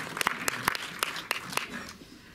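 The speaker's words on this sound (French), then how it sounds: "Vous pouvez applaudir aussi" Scattered audience applause at a film festival screening at the Méliès cinema, a moderate patter of claps in a hall, fairly distant and thinning out over a couple of seconds.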